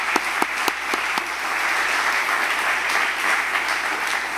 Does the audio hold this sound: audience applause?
yes